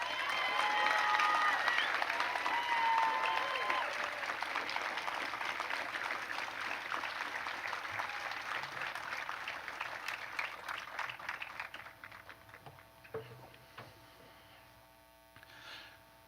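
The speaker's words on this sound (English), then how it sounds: "Let's have one more round of applause, please." Applause at a 2021 senior class awards ceremony, a crowd clapping steadily and fairly loud at first, thinning and fading over the second half with a faint electrical hum beneath.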